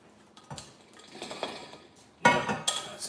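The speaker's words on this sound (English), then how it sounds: "Yep, that sounds like a lot of ice, not a lot of water." Ice cubes clink and rattle against the walls of a water jug during refilling in a home kitchen, with sparse knocks early and a sharper cluster of clatters near the end.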